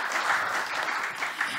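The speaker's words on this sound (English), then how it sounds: "Give yourself a big round of applause." Seminar audience at a trading talk applauding themselves, a short burst of dense, even clapping heard alone.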